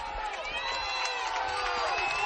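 Homecoming crowd at a high school football game, Leo versus Bellmont, roaring from the stands with whoops and sustained cheering, a dense continuous wall of voices at moderate level, with announcers talking over it.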